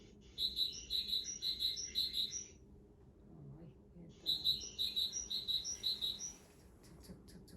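Small yellow-bellied songbird singing in two bursts of bright, rapid chirping phrases separated by a pause, over low background rumble.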